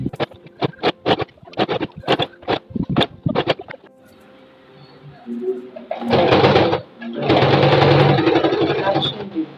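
A sewing machine stitches a waistband onto a pencil skirt, first in quick stop-start pulses and then in longer steady runs, all close.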